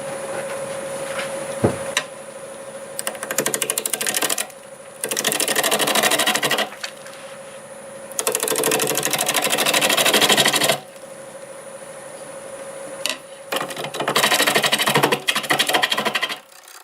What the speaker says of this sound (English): We'll start about 780 RPM with a ½ inch bowl gouge.